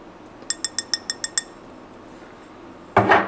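A utensil stirring pepper extract into a dish of shrimp, with seven quick, evenly spaced metallic clinks against the bowl, then a short pause and a louder scraping clatter near the end.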